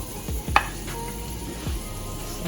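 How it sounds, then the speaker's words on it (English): Peppers sizzle in preheated oil in a pan, a low, steady frying hiss broken by a few soft stirring knocks. "Oil, preheated, not too not overheated enough. Put in some."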